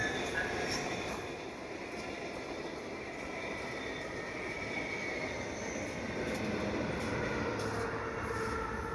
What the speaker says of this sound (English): that's the new Via train there